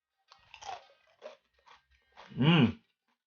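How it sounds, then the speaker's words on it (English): Homemade crunchy corn flakes being chewed close up, a few short crisp bites followed by a louder, longer burst of crunching. "Light, nice and crunchy, easy to chew."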